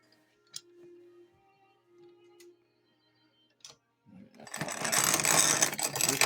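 A hand-cranked grinder working homegrown corn: a few quiet ticks and mechanical clicks at first, then a loud, rough, continuous grinding that runs through the final two seconds.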